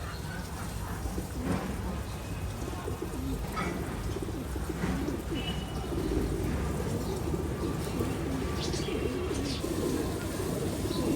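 Bazgiri pigeons on a decorated rooftop garden, cooing in low, repeated calls under a constant background hiss.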